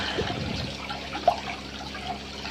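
Small waterfall of bought stones trickling into a homemade backyard fish pond, a soft steady splash and dribble of falling water heard up close, continuous and fairly quiet with no talking.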